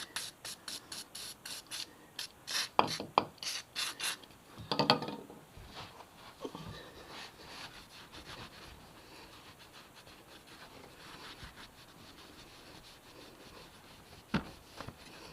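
A cloth wipes down MV Agusta F3 motorcycle parts after a spray of WD-40: quick, close, repeated rubbing strokes for several seconds, then quieter scattered scuffs and one last sharp swipe.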